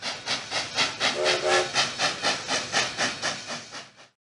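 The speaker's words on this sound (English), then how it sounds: "The Trans-Siberian Railway runs from Moscow to Vladivostok." A steam train chugs in steady rhythmic puffs with a hissing edge and a brief whistle-like tone, then cuts off abruptly.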